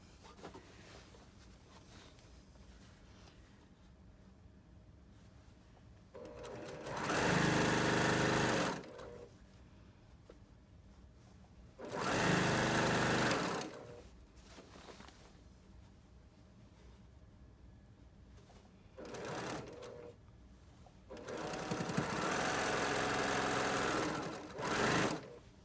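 A sewing machine stitches quilt pieces in four separate bursts of loud, steady whirring, the last one the longest, with quiet pauses between runs.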